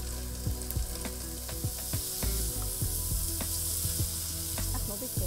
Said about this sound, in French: Ajoutez les légumes et faire revenir.